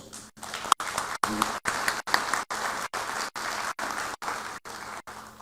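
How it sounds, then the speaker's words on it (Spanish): An audience at a Spanish-language conference on interculturality and self-determination applauds the moderator, a full, sustained round of clapping that keeps breaking into short bursts. "a quien recibimos con un fuerte aplauso"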